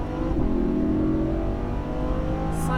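A Lamborghini Huracan accelerating on a race track: a loud, steady engine drone with rising harmonic tones, held close and continuous for the whole stretch, with no talking over it.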